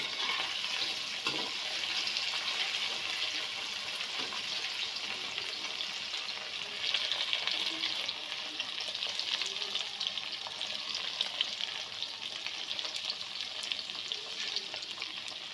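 Okra pieces frying in ghee in a kadhai give a steady, dense sizzle that holds throughout, with a few faint stirring knocks underneath.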